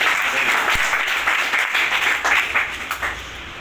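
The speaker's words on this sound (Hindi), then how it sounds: "एक बार मोबाइल साइलेंट पे इसलिए जोरदार ताली बजा लो एक बार।" A seated audience at an RCM shop opening claps loudly on cue, a dense, steady wash of applause lasting a few seconds with no talk over it.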